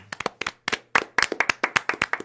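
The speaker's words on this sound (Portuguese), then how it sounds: "Palmas aqui." Hosts in a Brazilian political news studio clap their hands, a quick, uneven run of close, crisp claps from a few people, bunched in small bursts with short gaps.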